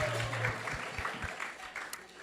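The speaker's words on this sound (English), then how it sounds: "So let's give him a big round of applause." Crowd at a Hare Krishna temple Sunday feast claps together in a soft, fairly distant round of applause, with a low hum and a few voices under the clapping.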